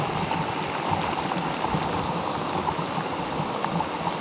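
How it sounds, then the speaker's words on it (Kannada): Dense, continuous wash of monsoon rain falling in the forest near Bhadra Tiger Reserve, steady and fairly loud, with no voices. "ಹೆವಿ ಮಳೆ ಬರ್ತಾ ಇದೆ."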